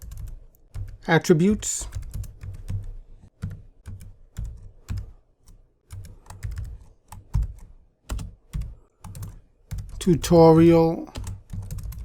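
Computer keyboard typing comes in short bursts of key clicks, close and clear, with a person speaking between and over the keystrokes.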